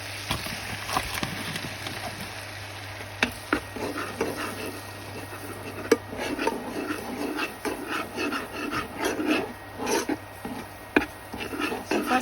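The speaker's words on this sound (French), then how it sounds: "Il faut laisser la farine cuire au moins 1 minute avec le beurre." Flour cooking with butter in a pan, heard as soft scraping and rubbing of a utensil against the pan with faint sizzle, quiet and close, in irregular strokes throughout.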